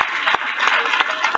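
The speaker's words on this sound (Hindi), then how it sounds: "सबसे ज्यादा तालियों के हकदार आप लोग हैं" Audience members at a youth parliament event clap, a brief burst of fairly loud applause with a few distinct claps standing out from the crowd.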